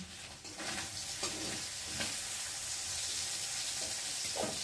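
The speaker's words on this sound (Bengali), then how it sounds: "চিংড়ি মাছটা ভাজা হয়ে গেছে, আর এখন আমি তুলে নেব।" Prawns frying in a pan for a water spinach dish, giving a steady close sizzle with occasional scraping stirs of a spatula.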